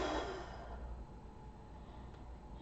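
A single slow, deep exhale of breath, close and soft, trailing off gradually over a couple of seconds with nothing else around it.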